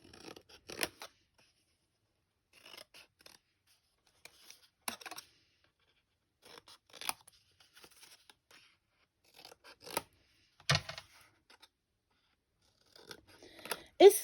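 Scissors snip the small intersections of a paper craft cup, making sharp, close snips spaced out by quiet pauses. Some cuts are single and some come in quick pairs.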